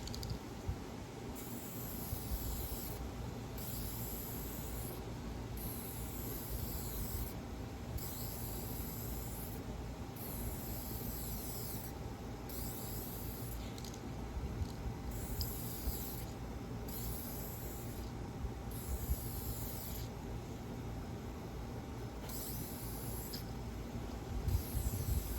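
An aerosol can of 2K paint sprays in long, repeated hissing passes with short gaps between them, close and steady.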